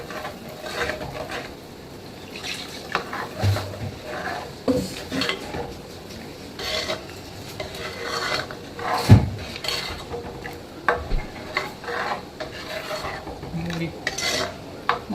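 A spoon scrapes and knocks around a cooking pot as masala is stirred, with irregular clinks and scuffs over a faint sizzle, close and moderately quiet, no talking.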